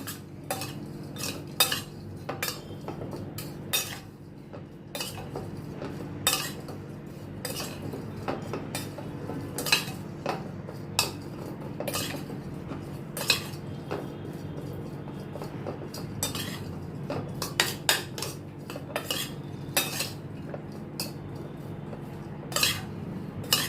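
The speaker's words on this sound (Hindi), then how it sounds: "इनको मैं अच्छी तरह से मिक्स करती हूँ पहले।" Baby potatoes being tossed with spices in a bowl, with a spoon clinking and scraping steadily against the sides in quick, irregular taps that run throughout without any talking.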